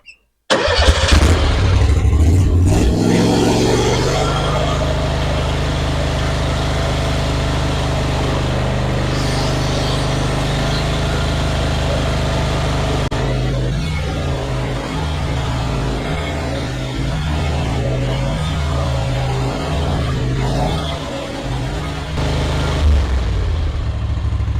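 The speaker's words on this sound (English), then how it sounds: "Now I like idling my mower up a little bit, not wide open, but I don't like it all the way on idle." A Bad Boy Rogue riding mower engine starts and then runs steadily at a raised idle for a long stretch, a loud, close, even drone whose pitch steps up partway through.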